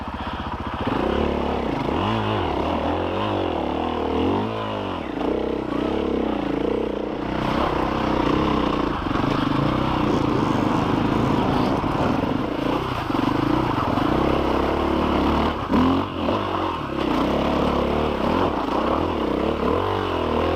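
KTM 500EXC enduro motorcycle engine revving hard while stuck in mud, loud and close, with surging throttle blips, labored bogging and clattering scrapes throughout.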